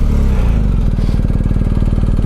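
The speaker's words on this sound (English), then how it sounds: "And I think this bike sounds absolutely awesome with this Akrapovic exhaust." BMW R1250GS boxer-twin motorcycle with an Akrapovic exhaust starting up: the starter cranks briefly, then the engine catches into a steady, rapid rumbling idle, close and loud, with no talking.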